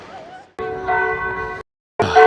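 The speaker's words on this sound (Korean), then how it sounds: "이 종소리를, 성당의 종소리를 들으면서" Cathedral church bells ring in a town square in Novi Sad, Serbia, their sustained tones carrying in two bursts split by a short gap, with crowd noise around them.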